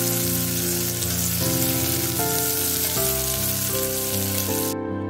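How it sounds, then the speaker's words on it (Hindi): Onions fry in a pan for Mysore masala dosa filling, a dense sizzling hiss running throughout beneath loud, prominent background music. "प्याज को अच्छे से थोड़ा सा कलर चेंज होने तक पकाएंगे।"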